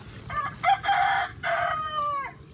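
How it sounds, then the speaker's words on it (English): A farmyard rooster crows close by, one full, loud cock-a-doodle-doo with a drawn-out, falling final note. "some chickens, roosters too"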